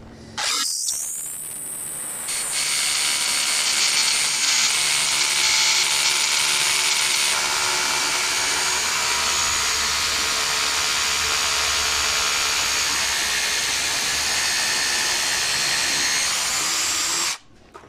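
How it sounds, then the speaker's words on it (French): A FERM power drill bought from Action bores steadily into old stone, a loud continuous whine and grind that starts after a brief spin-up and runs unbroken for about fifteen seconds before cutting off. "je vais tenter de percer dans de la vieille pierre pour voir"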